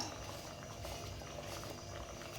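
Sesame-coated corn cutlets frying in hot oil make a steady, dense bubbling sizzle. It is close and continuous, with no talking over it.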